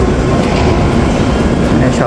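Loud, steady rumble and hiss of a Japanese bullet train at a station platform, continuous throughout with a faint metallic rattle and voices mixed in.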